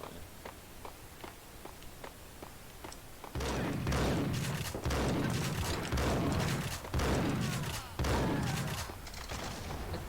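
Gunfire in the game Max Payne: a few faint sharp shots, then a louder burst of heavy, booming blasts and a grenade-like explosion repeating at close range, with no talk.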